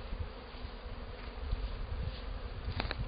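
Honeybees buzzing around the front of a hive in spring, a steady close drone with individual bees passing near, no talk.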